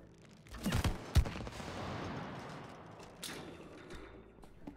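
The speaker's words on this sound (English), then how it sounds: "Explode the sap." Sap explodes in the co-op game It Takes Two, a pair of sharp blasts up front followed by a rumbling, crackling wash of debris that fades out, with no talking.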